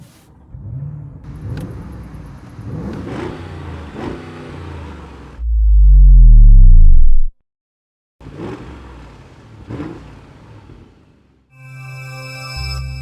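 A 2024 Audi SQ8 facelift SUV with a 507 hp V8 starting up: a loud rising rev that holds, then cuts out to silence, followed by idle rumble and a final smooth steady hum.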